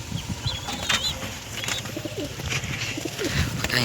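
Pigeons in a loft coo in low, rolling phrases while wings flap in short bursts nearby, a busy close-up mix of soft calls and fluttering with little talk.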